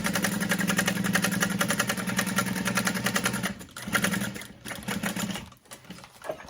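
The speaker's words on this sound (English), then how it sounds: "So then I'm just gonna top stitch through that seam." A sewing machine top stitches a bag seam, whirring in a steady, fast stitching run for about three and a half seconds, then stopping and restarting in short bursts, close and loud.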